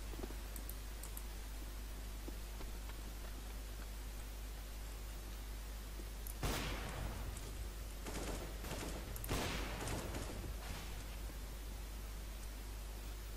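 Gunfire in a Counter-Strike: Global Offensive match: two quick bursts of shots a few seconds apart over a steady background hiss, fairly faint overall.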